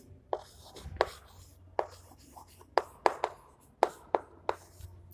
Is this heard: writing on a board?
yes